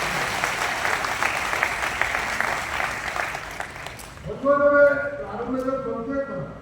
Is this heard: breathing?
no